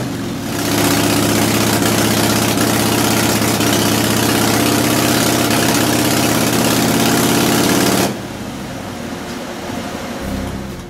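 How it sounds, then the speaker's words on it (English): A motorcycle engine fitted with an S&S carburetor idles running overly rich, a loud, steady, dull blubbery exhaust drone that cuts off abruptly, leaving a quieter low rumble. "The dull sound of the exhaust is often described as blubbery."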